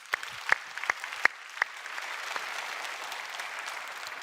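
Church congregation applauding during a sermon, starting with a few sharp separate claps that merge into a steady, moderately loud wash of clapping.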